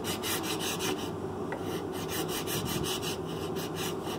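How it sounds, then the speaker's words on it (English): A hand file or rasp scrapes a pine wood derby car body in quick, steady back-and-forth strokes, close and crisp, with no talk. "I call this a file."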